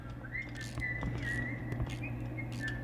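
A thin whistled tune wavers in short held notes across a few seconds, moderately near over a low steady hum with light clicks in the background.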